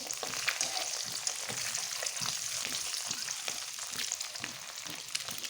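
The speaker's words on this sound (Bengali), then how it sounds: "একটু হলুদ দিয়ে আমি ভেজে নিচ্ছি" Eggs coated with turmeric fry in a hot pan, a steady close sizzle with crackling pops and occasional stirring scrapes, no voices.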